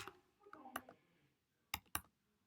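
A handful of quiet, scattered keystrokes tap on a computer keyboard during a beginner JavaScript coding session, with pauses between small bursts of clicks.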